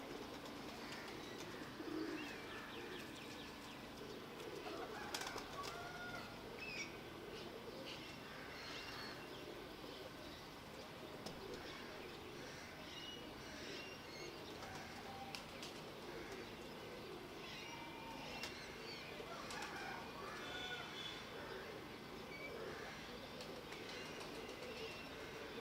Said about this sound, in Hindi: कबूतर फिर हाइट पकड़ रहा है।